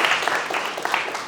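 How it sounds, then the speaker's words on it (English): A burst of audience applause, dense clapping that fades slightly over a second or so. "let's just give him a big round of applause for coming on stage"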